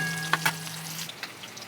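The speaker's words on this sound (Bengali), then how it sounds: "পেঁয়াজটাও একটু ভাজা ভাজা করে নেব।" Chopped onion hitting hot oil already tempered with cumin in a Bengali soybean-and-sesame dish, a close, steady sizzle with a couple of sharp spatters at the start and a soft stir.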